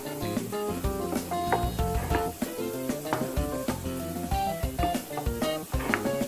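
Ground beef sizzling and frying in a long-used home skillet over medium heat, with a steady dense crackle and spatter close up and no talking.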